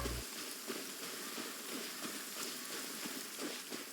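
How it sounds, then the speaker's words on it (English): Faint, steady rain patters softly outdoors, a quiet continuous wash with slight flickers of drops and no voices. "No, why is it raining?"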